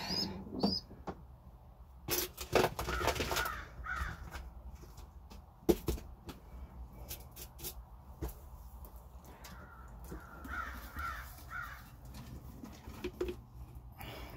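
A crow-like bird caws in short, harsh bursts amid household rustling and clatter, the calls scattered and fairly close, with cooing bird sounds mixed in.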